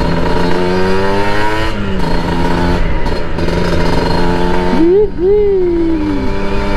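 Motorcycle fitted with an aftermarket exhaust revving hard and close, the engine note rising and falling through several sharp throttle blips over a constant loud drone.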